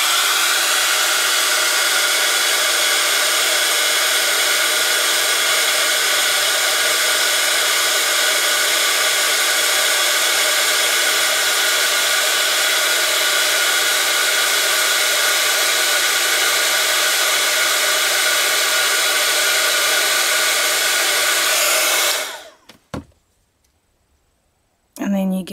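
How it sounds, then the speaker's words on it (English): A heat gun blows a loud, steady whooshing roar while melting embossing powder on wood, running continuously up close before cutting off abruptly near the end, followed by a brief silence. "Heat gun."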